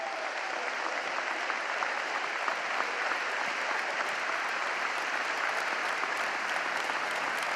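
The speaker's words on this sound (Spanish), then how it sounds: "Quiero pedir un aplauso muy fuerte para nuestro Premio Nobel de la Paz, Adolfo Pérez Esquivel." Loud, sustained applause from a large audience at an Argentine political event with Alberto Fernández, honouring Nobel Peace laureate Adolfo Pérez Esquivel; dense, steady clapping fills the whole stretch without a break.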